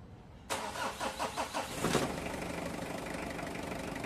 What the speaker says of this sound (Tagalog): ipa-start ko itong makina.